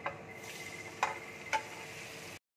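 Paneer pieces fry in melted butter in a wok, making a soft, continuous sizzle with a couple of sharp clinks of utensil against the pan before the sound stops suddenly.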